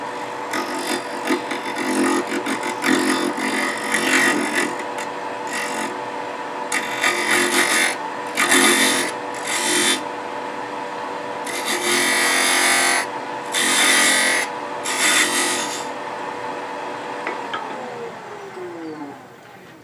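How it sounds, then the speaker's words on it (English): A negative rake scraper is scraping a wooden ring flat on a spinning lathe, giving a continuous, fairly loud rasping hiss over the lathe's hum, with repeated surges as the tool is pressed in. "go back to that negative rake scraper and just flatten this off just a little bit"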